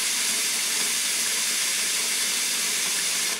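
Water pours steadily into a container as a lye cleaning solution is prepared, a continuous loud hissing rush with no talk.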